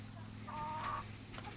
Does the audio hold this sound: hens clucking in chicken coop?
yes